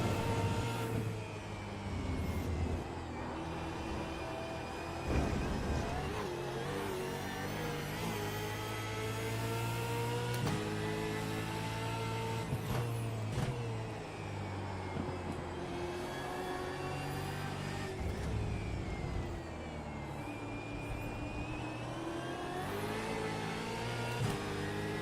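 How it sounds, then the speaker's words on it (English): A Mustang V8 Supercar engine races around Road Atlanta, roaring loud and close with steady revving and shifts in pitch across the lap, alone with no talk. "Mustang Supercar sounds great."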